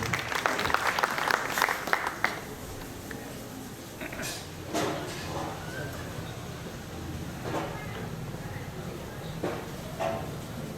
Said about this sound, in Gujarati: સૌની જોરદાર તાળીઓના નાદ સાથે.